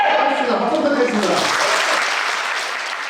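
Audience applause at a partner meeting: dense, sustained clapping from a full room, loud at first and slowly tapering over three seconds, with voices mixed in under it.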